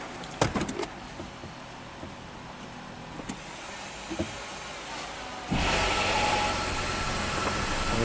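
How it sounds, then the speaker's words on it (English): A 2017 Nissan X-Trail Hybrid, just after transmission repair, starts with a few clicks and a sudden rise into a steady, broadband running hum that continues to the end, with no talking. "Okay, so we definitely got the vehicle started."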